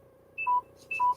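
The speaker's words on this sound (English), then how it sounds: "that's my phone telling me it's running out of battery" A mobile phone's low-battery alert sounds as two quick paired electronic beeps, each a short rising two-note chirp, over a quiet indoor hum.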